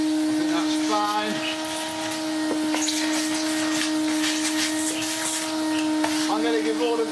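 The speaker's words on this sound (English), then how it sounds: "I'm going to give all of this a vacuum off" A Numatic vacuum cleaner sucks up dust with a loud, steady motor drone and a high airflow whine, and the pitch shifts briefly as the nozzle moves.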